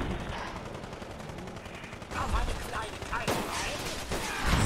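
Gunfire in the Fallout 4 video game, a dense stretch of rapid shots and impacts that grows louder after a couple of seconds, with a few sharper individual cracks.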